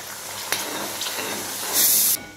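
Onions and ground masala frying in oil give a short crackling sizzle with a few sharp spits and a louder hissing burst near the end, close by, no voices.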